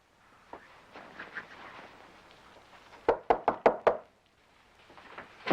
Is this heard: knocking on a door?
yes